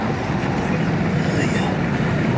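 A boat motor idles steadily at a fishing tournament launch, a low rumble droning on without a break, with some wind noise over the top.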